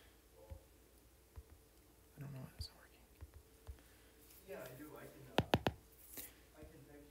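Sparse keystrokes on a computer keyboard while a price is entered into an MLS buyer search, scattered soft taps followed by a quick cluster of three sharper, louder clicks, with faint murmuring in a quiet room.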